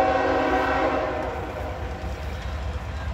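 A two-locomotive CSX intermodal freight train rolls past in Folkston, Georgia, its horn sounding loud and sustained at the start and easing off as the heavy rumble and clatter of the cars continue close by.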